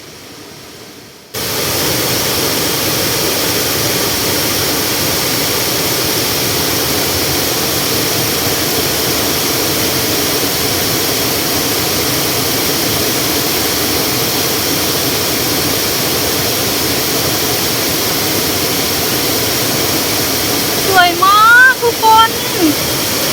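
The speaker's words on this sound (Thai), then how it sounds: "ตอนนี้เรามาถึงแล้วค่ะน้ำตกตาดน้อย" Tad Noi waterfall in Na Yung district, Udon Thani, in the rainy season, roars loudly and constantly up close, a dense wash of noise; a voice briefly rises over it near the end.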